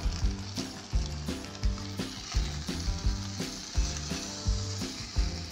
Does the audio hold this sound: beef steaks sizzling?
yes